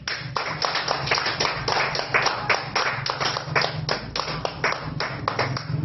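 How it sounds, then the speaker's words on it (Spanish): A church congregation claps together in dense, steady applause that holds for about six seconds, loud and close, with no talk over it. "Dale un aplauso a tu Dios."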